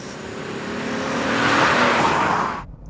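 An Acura TLX sports sedan engine revs up loudly, rising to a strong roar before cutting off abruptly near the end, heard close.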